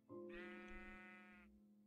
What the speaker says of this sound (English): Is this a brown sheep?